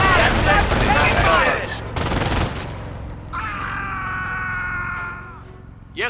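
Bursts of rifle and machine-gun fire crackle through a World War II battle in Company of Heroes, dense and loud in the opening seconds, then easing under a steady tone and soldiers' shouted voices.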